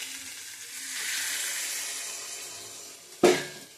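Chicken kosha frying in a pan gives a gentle, steady sizzle until water is poured in, setting off a sudden loud hissing burst that quickly fades, close by with no talking.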